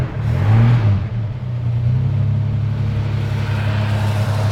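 A freshly serviced car engine, still cold, idles nearby with a steady low rumble. A brief rise in revs comes early, then it settles into an even drone.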